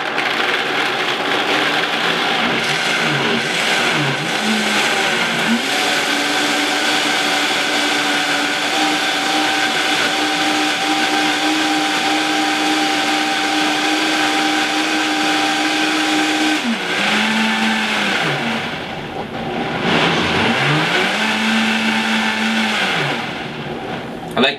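A Vitamix blender blending almond yogurt, a loud steady whirring roar that holds for long stretches, dips and rises twice as the speed is turned down and back up, then cuts off near the end.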